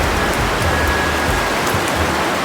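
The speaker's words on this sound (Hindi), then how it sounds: "अभी देखो भाई पल भर में ही खतरनाक बारिश आ गई।" Heavy rain pours down in a steady, dense hiss near a hillside home in the mountains, with no voices and no wind gusts standing out.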